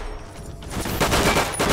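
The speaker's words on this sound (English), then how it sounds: "I'm going towards the sounds of gunshots" Rapid gunfire in the video game Fallout 3, a dense burst of several shots crackling in quick succession and building in loudness over under two seconds, with no voices.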